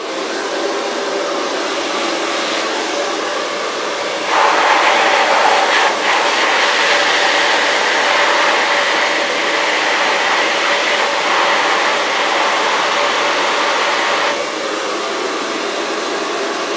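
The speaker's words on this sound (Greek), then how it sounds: "Το στόμιο που θα ανοίξει το πιστολάκι." A handheld hair dryer blows steadily and loud from start to finish, a continuous close whooshing roar that swells briefly when the nozzle is fitted for curling hair around a bottle, with no talking.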